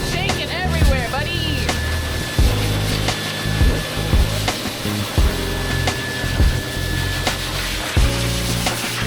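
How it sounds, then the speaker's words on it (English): A blow dryer drying a dog whirs steadily throughout, with brief knocks and rustling over it and the dog's faint whimpers early on. "And then I move to the blow dryer."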